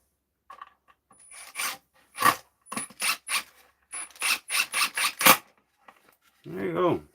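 Screws driven into a wooden jig come through as a series of short, close, whirring bursts from a driver, about nine in irregular succession, ending with a brief voiced sound.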